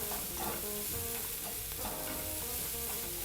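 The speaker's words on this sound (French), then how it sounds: "vous prenez vos oignons et vous faites pareil, vous les faites revenir" Onions frying in duck fat or olive oil in a pan at a restaurant in Petit Bayonne, a steady close sizzle and crackle with stirring, no voices.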